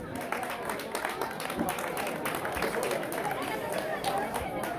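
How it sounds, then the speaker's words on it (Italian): Spectators applaud during the team presentation at a regional women's youth cycling race, a sustained patter of clapping mixed with crowd chatter and a voice over a public address. "Alla presentazione, applausi pubblico."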